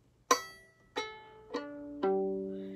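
Four plucked violin strings ring out one after another, each note sounding clearly and decaying slowly in a quiet room.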